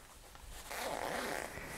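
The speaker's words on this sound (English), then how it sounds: "has a zipper that opens up and makes it a little easier to get the umbrella in and out of the case." A zipper on an umbrella's storage case being pulled open, a fairly quiet rasping zip lasting about a second after a brief pause, with no talking.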